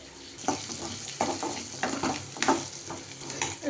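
Food for a Chettinad country-chicken gravy sizzles and crackles in a hot pan, with intermittent stirring scrapes over a steady frying hiss.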